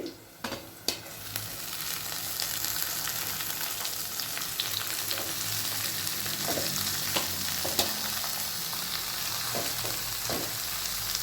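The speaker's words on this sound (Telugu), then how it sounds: "ఇప్పుడు మనము ఈ సన్నగా కట్ చేసి పెట్టుకున్న ఈ తోటకూర వేసేస్తున్నానండి." Finely chopped amaranth leaves fry in oil over a medium flame, filling the scene with a loud, continuous sizzle and occasional sharp scrapes and taps of stirring, with no talking.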